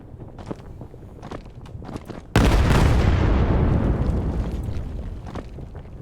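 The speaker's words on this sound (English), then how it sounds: "Nades coming through." Grenades go off in the tactical shooter Vail during a playoff match, a sudden loud blast that rolls into a long decaying rumble after scattered earlier footsteps and thuds.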